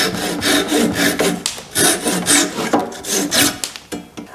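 Handsaw cutting off protruding dowels on an oak and marine plywood step stool, a steady run of rasping back-and-forth strokes, close and loud with no talk.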